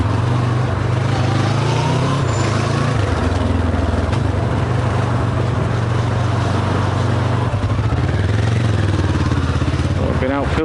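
A green Kawasaki motorcycle filters past through traffic, its engine rising over the low, steady drone of a nearby ridden motorcycle and road noise, while a rider talks throughout.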